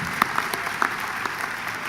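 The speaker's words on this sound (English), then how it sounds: "That deserves applause." A short stretch of scattered applause from a college commencement audience, light clapping with a few sharper claps standing out.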